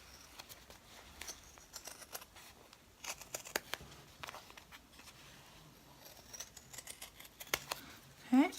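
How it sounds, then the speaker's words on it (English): Scissors snip along the fabric edges of an in-the-hoop glitter-filled embroidered star banner, cutting close to the stitching, with quiet, scattered clicks and snips spread across the clip. "When I get to these edges, I put the tip of my scissors there so I don't cut through my stitches."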